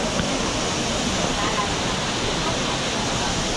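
Waterfall at an ancient town in China, a steady broad rush of falling water filling the scene at close range, with possible faint voices mixed into the roar.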